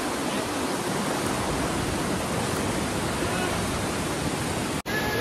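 Kalu waterfall in Maharashtra roars as a loud, steady wall of rushing water, continuous and close, with no voices breaking through.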